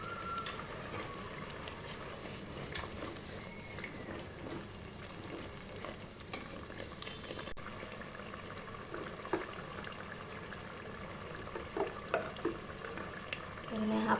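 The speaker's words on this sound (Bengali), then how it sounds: "আমি আদা বাটাটা পেঁয়াজ রসুনের সাথে কষিয়ে এনে" Ginger paste fries in a pan with onion and garlic while being stirred, as the base for cooking beef. Soft, steady sizzling continues throughout, with occasional scrapes and clinks of the spoon, close and moderately quiet.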